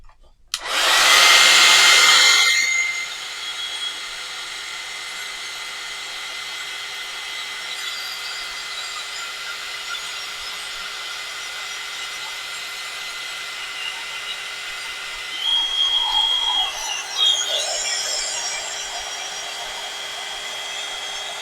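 A hair dryer roars loudly for about two seconds to dry paint on an object dug from a riverbank, then keeps running at a lower steady whir with a brief louder stretch near the end.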